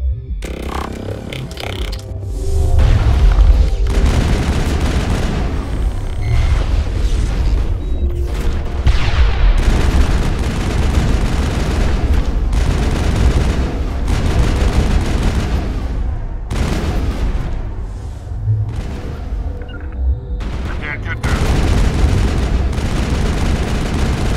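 Heavy gunfire fills a sci-fi firefight in the video game Mass Effect, with rapid bursts and booming shots stacking on one another nearly nonstop, loud and close, pausing only briefly now and then.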